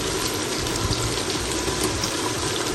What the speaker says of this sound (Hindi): तो मैं यहाँ अदरक लहसुन की पेस्ट डाल रही हूँ।